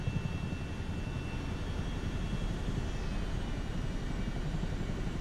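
A Chinook helicopter in Microsoft Flight Simulator 2024 gives off a steady, heavy low engine and rotor drone that stays even and loud, with no voices.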